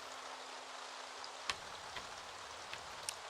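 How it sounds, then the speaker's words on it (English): Soft, steady rain falls in the Staxel video game, a quiet even hiss with a few faint drips and light taps, and no voice. "The rain can be a very beautiful thing,"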